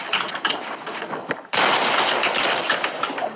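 Video game gunfire, a dense burst of rapid shots that cuts in sharply halfway through after lighter scattered fire, loud and continuous with no speech over it.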